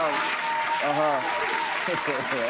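Studio audience applause on a Nigerian late-night comedy talk show set, a steady wash of clapping running under a speaking host throughout.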